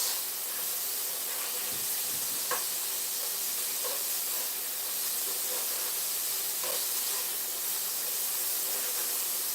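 Garlic, peppers and onions sizzle steadily in a hot pan, a continuous close hiss of frying with a few soft stirring taps scattered through it.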